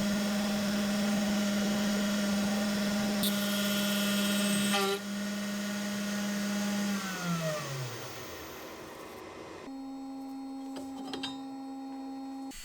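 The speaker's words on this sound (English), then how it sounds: "You can both see and hear that there's quite a bit of vibration" A Carvera desktop CNC machines a thin plate about 0.5 mm thick, giving a loud, steady tonal whine with strong vibration. The whine drops away as the spindle slows, and quieter machine hum follows.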